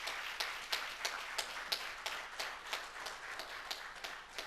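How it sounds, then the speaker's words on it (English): A congregation applauding after a speaker's address at a religious gathering. The claps are faint and distant, arriving as a thin, steady, fairly regular patter of individual claps. "give our brother, Minister Reggie Muhammad, a round of applause for those excellent words"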